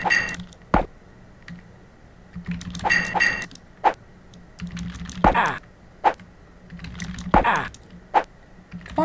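Computer keyboard keys on a misbehaving keyboard pressed during a Prince of Persia swordfight: short clustered clicks and taps in irregular bursts, mixed with game sounds and occasional sharper clacks.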